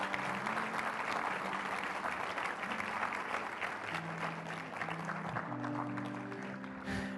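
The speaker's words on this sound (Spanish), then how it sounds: "Denle un aplauso fuerte" A church congregation at a teaching service in Mexico breaks into sustained strong applause, dense clapping filling the hall throughout, with low sustained music tones underneath.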